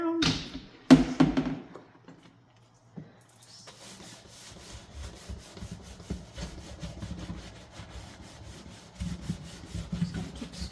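Repeated scrubbing strokes across a kitchen or bathroom floor, rough rubbing bursts that start and stop, close to the listener and fairly loud, with a short quiet pause before the steady scrubbing resumes.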